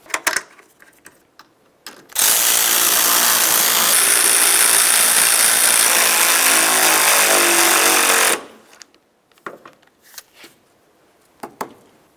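A power tool, likely an impact driver, runs in one loud, close, continuous burst of about six seconds driving headlight mounting bolts on a 2006-10 Ford Explorer, with small handling clicks and taps before and after.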